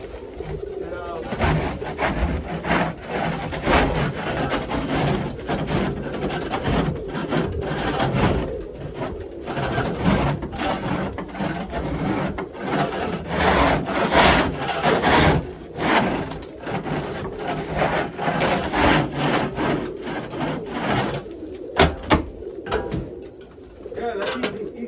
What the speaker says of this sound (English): I scrape the floor first.